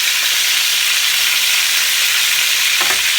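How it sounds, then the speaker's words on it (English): Chicken sizzles steadily in a hot pan on high heat, a loud, continuous frying hiss that fills the whole stretch with no talking. "I hope you can hear me over the sizzle"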